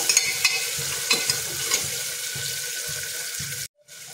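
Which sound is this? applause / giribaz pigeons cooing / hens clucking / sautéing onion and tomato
sautéing onion and tomato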